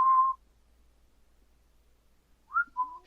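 A voice imitates a mysterious whistling heard inside a house: a short clear whistled tone at the start, silence, then two more rising and falling whistles near the end, close and alone.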